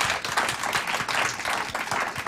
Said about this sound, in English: You don't have to wait until he gets hit with all the questions to applaud